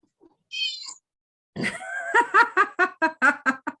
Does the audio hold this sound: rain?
no